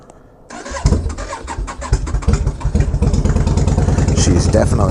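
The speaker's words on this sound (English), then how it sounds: "I'm going to start the bike. It's going to be nice and loud. It needs to warm up." A cold motorcycle engine fires up after a brief quiet moment, then settles into a loud, steady, throbbing run as it warms, close by and alone with no talk.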